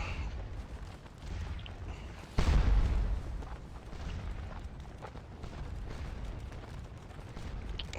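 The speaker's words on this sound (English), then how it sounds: "that was the artillery that drove them off" Artillery fire booms across a Napoleonic battlefield in Scourge of War Waterloo, one heavy blast near the middle standing out loud above a steady rumbling background of distant battle noise.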